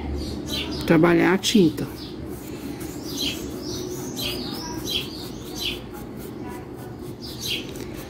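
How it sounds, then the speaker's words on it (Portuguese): Small birds chirp and tweet faintly outdoors in scattered short calls, heard behind someone speaking Portuguese during a home fabric-painting lesson, with some low background noise. "tem passarinho piando"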